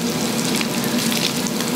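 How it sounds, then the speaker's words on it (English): Sardines, including small brislings, sizzle and fry in a hot pan with a loud, steady crackling hiss and dense popping spatter, close and continuous with no talk. "we got our sizzling pan here"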